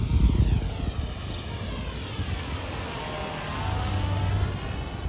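An RC model airplane makes a high-speed pass, its small engine buzzing steadily with a slowly shifting pitch against wind noise. The sound is moderately loud and sustained, with no talking.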